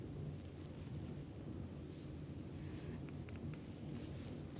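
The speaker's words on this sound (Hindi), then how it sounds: "लगातार बारिश हो रही है," Heavy, continuous rain with rumbling thunder during a monsoon downpour in Uttarakhand, a dense steady wash of noise with low rolling rumble throughout and no talk.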